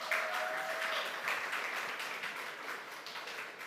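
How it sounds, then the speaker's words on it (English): Steady applause from an audience at a labor organization's annual closing ceremony, sustained and fairly even, fading slightly toward the end. "Let's give her another round of applause."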